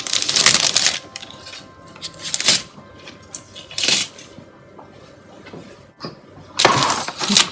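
A cellophane bag is handled up close while packaging a peppermint foot massage bar, giving bursts of sharp crinkling and rustling separated by quieter gaps.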